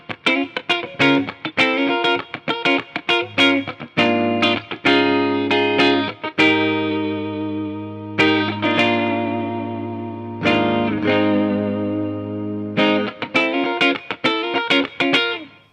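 A 2020 Gibson Hendrix signature 1969 Flying V electric guitar on its middle pickup setting, played clean and chimey: strummed chords and ringing notes with some sustained passages, bright and close, with no talk.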